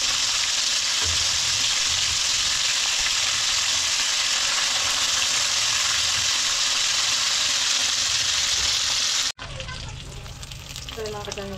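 Fish pieces frying in a pan give a loud, steady broadband sizzle that runs without a break for about nine seconds, then cuts off abruptly, leaving quieter kitchen sounds behind.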